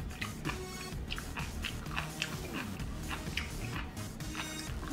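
Sea grapes chewed close to the mic make a steady run of crisp, crunchy bites and wet mastication, with soft pops bursting repeatedly over several seconds.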